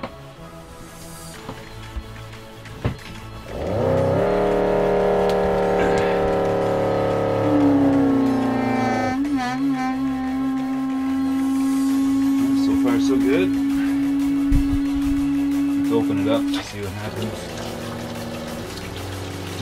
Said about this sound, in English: I'll switch on the pump.